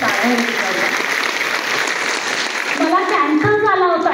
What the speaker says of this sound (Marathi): त्याच्यासाठी एकदम जोरदार त्यांच्यासाठी टाळ्या वाजवा.